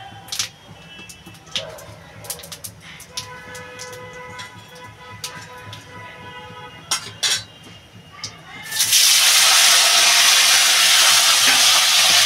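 Chopped raw tomatoes tipped into a hot pan while cooking a Bengali fish and potato curry, with light clinks of utensils and then a loud, steady sizzle and hiss that continues to the end.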